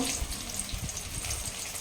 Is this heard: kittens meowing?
no